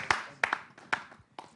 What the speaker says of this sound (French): Applaudissez les parents responsables là.